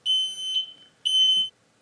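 A smoke alarm gives two loud, piercing high-pitched beeps, each lasting about half a second, with a brief gap between them.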